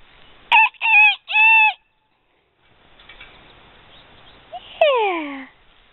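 A rooster crows close by in a loud three-part call, then after a pause gives a shorter, falling crow over faint background noise.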